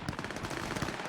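Johnny's gun firing in the video game Cyberpunk 2077, a rapid burst of close, punchy automatic shots in quick succession over about a second.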